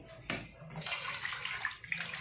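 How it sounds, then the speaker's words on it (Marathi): Water splashes and sloshes in a basin as raw chicken is rinsed by hand in clean water, with intermittent swishing and light knocks, fairly close. "मी आता घेते चिकन अगोदर स्वच्छ पाण्यामध्ये धुवून घेते"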